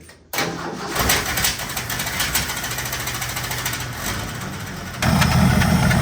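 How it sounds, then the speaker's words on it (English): An F100 truck engine starts up and runs with a rapid, rhythmic high chirping from a worn alternator bearing pulsing over the motor noise, growing louder near the end. "I'm pretty sure that chirping noise is coming from the bearing in our alternator."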